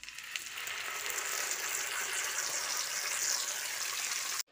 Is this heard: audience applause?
no